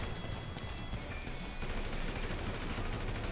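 Gunfire rattles in Grand Theft Auto V, a dense and continuous burst of shots that swells slightly louder partway through.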